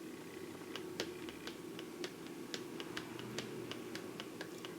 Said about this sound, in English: this has a roller ball in it, and I've actually never seen any sort of foundation with this type of applicator. So let's see what happens when we start clicking.